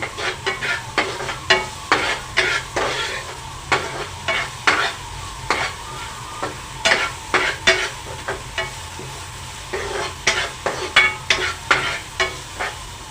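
Cauliflower and potato sabji sizzles loudly in a pan over a high flame while a spatula stirs it with quick, rhythmic scrapes and clatters, close and steady throughout, with no speech.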